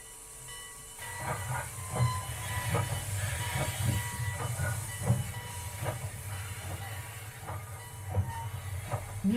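In a 1936 railway station in the town of Itajubá, southern Minas Gerais, a steam train gives off a constant hiss and low rumble with irregular clanks and knocks scattered through it, moderately distant and without voices.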